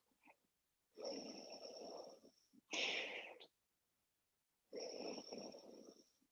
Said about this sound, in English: deep inhalations and exhalations as you're doing this